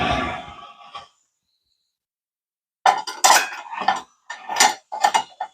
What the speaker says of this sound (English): Do some scooping to get this out.